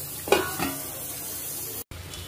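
Eggplant and potato pieces fry in a pan for a South Indian vaangi bath, with a couple of close stirring scrapes near the start over a steady sizzle that briefly cuts out.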